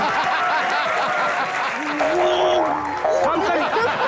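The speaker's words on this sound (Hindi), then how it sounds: "जोरदार ताली" Stage audience applause at a comedy show, steady dense clapping held throughout, loud and close, with cheering and a voice speaking over it.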